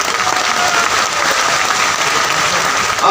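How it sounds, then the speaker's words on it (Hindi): A seated audience at a political rally applauds on cue, dense, sustained clapping that fills the hall at a steady level from start to finish, with no voices cutting through. "उनके नाम की जरा ताली"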